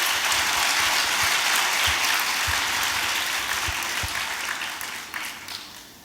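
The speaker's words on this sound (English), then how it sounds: "let's begin this by having a huge round of applause for our dear panelists" Audience applause for the panelists at a CA students' national conference, a dense sustained wash of clapping from a large crowd that tapers off toward the end, with no talking.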